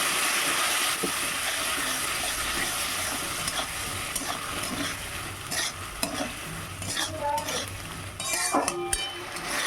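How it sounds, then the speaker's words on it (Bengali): Spice paste with a splash of water fries in a pan for a cauliflower and fish curry, giving a steady, dense sizzle broken by scraping stirs and the occasional clink of a utensil. "সামান্য জল দিয়ে মশলাটা আরেকটু কষে নেব।"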